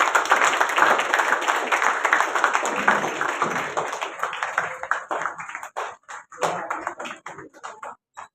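Loud applause from an audience at a women's award presentation, dense clapping at first that thins into scattered individual claps toward the end, with faint voices mixed in.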